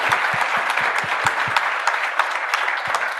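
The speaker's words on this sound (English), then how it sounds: "Ladies and gentlemen, a warm round of an applause." Warm applause from an audience at a book discussion event, lively clapping with distinct individual claps standing out, fairly close and steady across the whole stretch.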